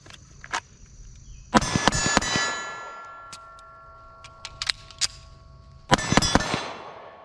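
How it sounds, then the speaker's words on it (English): A handgun drawn from a holster fires a quick cluster of sharp shots with ringing metallic clangs, followed by a pause for a magazine change from a pocket and another burst of shots. "I'm gonna shoot 3 rounds and I'm gonna change my mag from my pocket"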